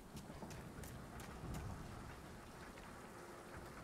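Steady patter of rain falling on surfaces in Mafia: Definitive Edition, a soft continuous hiss with faint drips, no voices.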